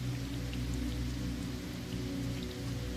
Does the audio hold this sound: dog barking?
no